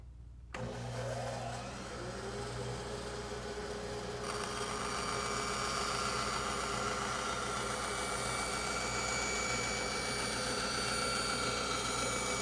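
A bandsaw cuts a wooden board. The motor spins up with a steady humming whine, and a few seconds later the blade enters the wood, adding a louder, harsher rasping tone that holds evenly to the end.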